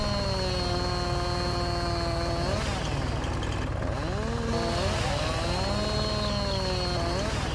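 A skid steer engine in a forestry video game drones loudly and steadily with a buzzing, whining tone, its pitch rising and falling as it revs under load, heard close up with no voices.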